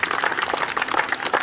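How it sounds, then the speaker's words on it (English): Crowd applause for the team owners and managers at the Diversity Cup 2020 final: a steady, dense patter of many hands clapping together, held at an even level for the whole stretch with no voices on top. "A big round of applause for all the team owners and managers"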